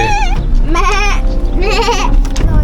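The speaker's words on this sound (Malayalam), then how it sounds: "ഇവിടെ നിറച്ച് ആട്ടിൻകുട്ടികളെ കാണാൻ പറ്റുന്നുണ്ട്. ആടുകൾ ഇഷ്ടം പോലെ ഉണ്ട്." Goats and young lambs bleating repeatedly on a farm near mountain ridges, several wavering cries in succession, close and loud over a steady rumble of wind or engine.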